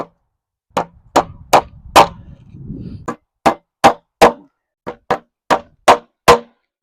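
Hammer blows nail joist hangers in place on a floor or deck joist against a wall, about eleven sharp, evenly paced strikes, loud and close, with a short burst of rustling handling noise partway through.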